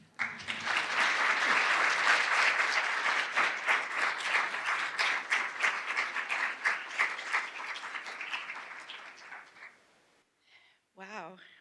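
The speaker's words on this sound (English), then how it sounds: "could you join me in giving another round of applause for Faith?" Audience applause at a State of the Child event in Muncie, Indiana, a loud sustained round of clapping that gradually thins and fades out, followed by a brief voice.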